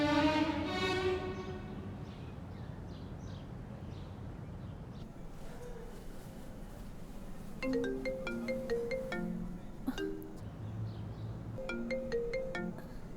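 A mobile phone ringtone plays for an incoming call, opening with a rising chime and then a repeating electronic melody of short plucked notes in bursts, all loud over faint background noise.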